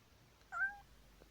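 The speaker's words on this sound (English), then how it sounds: "the cat lifted its head weakly and meowed at the girl" A cat gives one short, weak meow, thin and faint in an otherwise quiet space, lasting about a third of a second.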